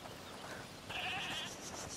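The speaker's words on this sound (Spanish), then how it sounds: "¡Oh, la cabra! Escuchad, es la cabra que mencionó." A goat named Tramontane bleats in the video game A Plague Tale: Requiem, a single faint, wavering cry rising in the second half over quiet ambient background.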